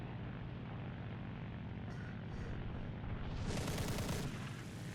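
Aircraft machine guns fire in a burst during a dogfight in War Thunder, a rapid rattling rising briefly over a steady loud engine drone.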